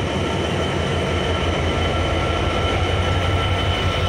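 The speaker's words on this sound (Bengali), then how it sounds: "লং উঠে যাইতেছে রূপের রানী রূপসা 727 সৈয়দপুর আউট করলো।" Locomotive 6621 hauls the Rupsha Express out of Saidpur station in Bangladesh, with a loud, continuous rumble of train wheels and rail cars passing close by and no voices.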